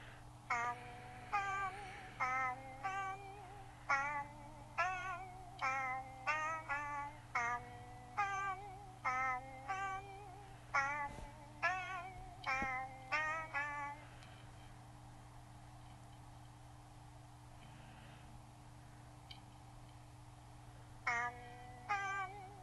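A rare Schmoochle's repeated chirping, meow-like calls in quick bursts on Air Island in a video game, with a short pause partway before the calls resume, over a steady low electronic hum.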